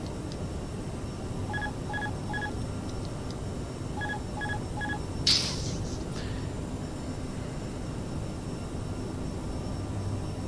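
Autopilot disconnect alert in the Aerosoft CRJ in Microsoft Flight Simulator 2020: two bursts of three short repeated chimes over a steady cockpit engine hum, followed by a brief click.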